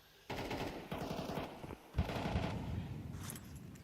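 Rapid automatic gunfire in Counter-Strike on the Inferno map during a pro Grand Final match, with bursts that come and go over a few seconds, fairly loud amid game noise.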